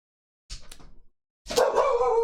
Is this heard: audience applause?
no